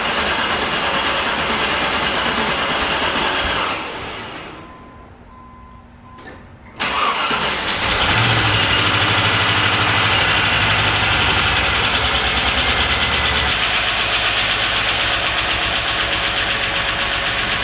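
A Land Rover Discovery engine, just fitted with new head gaskets, cranks briefly after a pause, catches and settles into a steady, loud, rough idle nearby, with no voices.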